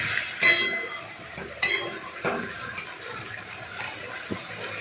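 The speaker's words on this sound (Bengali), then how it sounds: "নুন দেওয়ার পরে ভালো করে নাড়াচাড়া করলাম" A metal spoon stirs salted lentils in a pot for pat-leaf dal, giving a few bright clinks against the rim and soft scraping over a low background hiss.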